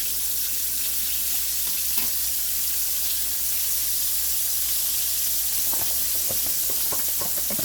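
Chicken pieces and onions fry over high heat in a skillet on a large burner, giving a steady, even hiss of sizzling that holds throughout, with a few faint clinks and stirring sounds near the end.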